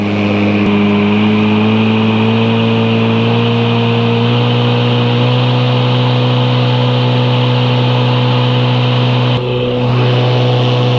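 Toro Grandstand Revolution battery-powered zero turn mower running its blades at max speed, a loud steady electric whine with strong low hum tones, close and constant, with a brief dip near the end.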